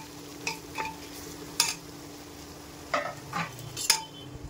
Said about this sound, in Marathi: तेलामध्ये चांगले रोस्ट करून घ्यायचा मसाला, मस्त होतं